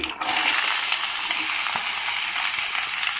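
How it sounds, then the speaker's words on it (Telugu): Cumin, mustard seeds, urad dal and chana dal fry in hot oil as a dense, steady crackling sizzle, loud and close, with faint pops throughout. "ఇప్పుడు పోపు గింజలు వేగిపోయి"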